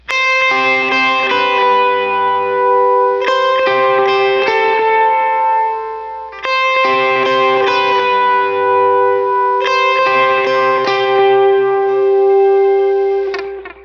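Melodic electric guitar, played through a multi-effects modeler for a worship song's pre-chorus, rings out with heavy reverb and delay, chords repeating in a slow, spacious pattern with long sustained tails.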